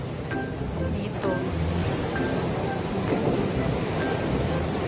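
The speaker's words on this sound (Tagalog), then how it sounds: "Takas ng alon, high tide." Ocean waves at high tide on a beach in Bataan, a continuous loud rushing surf with steady wind and faint background voices.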